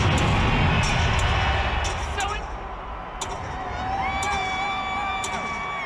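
Times Square crowd at the New Year's Eve 2009 ball drop, a dense, loud outdoor roar of cheering and chatter. Whistles and high horn-like tones rise above it toward the end.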